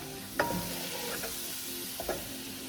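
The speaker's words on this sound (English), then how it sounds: "And then we're going to sweat off the onions." Onions sweat in a pan of butter and oil for a chicken and chorizo risotto, giving a soft, steady sizzle with a few sharp stirring clicks near the start and end.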